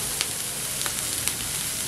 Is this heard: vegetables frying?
yes